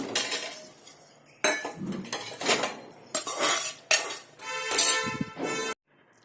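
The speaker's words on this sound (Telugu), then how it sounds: "నేను తీసి ప్లేట్లో వేసుకుంటాను" Fried dry coconut is scraped from a pan onto a plate with a metal utensil, giving repeated close clinks and scrapes in irregular bursts over about six seconds before a brief silence at the end.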